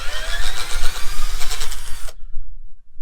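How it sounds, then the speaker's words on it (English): Asda Hyper Tough drill, a small light non-hammer model, whirring loudly and steadily for about two seconds before cutting off abruptly into silence. "for its size, that's a handy little drill"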